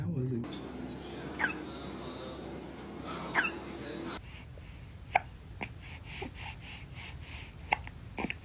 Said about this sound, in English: Do you know how we get rid of hiccups?